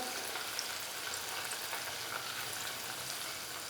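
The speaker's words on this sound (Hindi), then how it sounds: "अब हम इसके अंदर अपनी 120 ग्राम जो हमने पीस के मिर्चें रखी हुई हैं वो ऐड कर देंगे" Ground chillies frying in garlic oil for a sweet and spicy chilli sauce, giving a steady close sizzle and crackle that stays even throughout without any talking.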